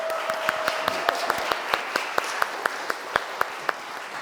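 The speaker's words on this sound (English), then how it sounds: "Can we give him a massive round of applause" An audience applauds at a community gathering's welcome and introduction, with sparse, distinct claps spaced irregularly over a steady room hum, moderately loud and close.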